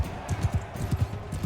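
Horse hooves gallop in Mount & Blade II: Bannerlord during a mounted tournament, a steady, fairly loud clip-clop rhythm of repeated low thuds close by with no talk over it.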